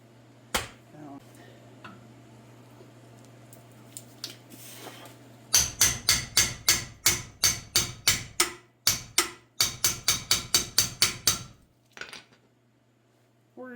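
Rapid metallic hammer blows ring out close by in two quick bursts of about a dozen strikes each, after a few scattered knocks and quiet shop noise, during ball joint work on a K5 Blazer.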